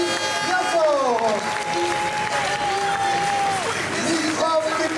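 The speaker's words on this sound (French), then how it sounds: "En effet, on les applaudit bien fort." Crowd applause at the close of the 2009 French Robotics Cup final match, loud and sustained with cheering mixed in and a few tonal electronic beeps sliding across, a commentator's voice running over it.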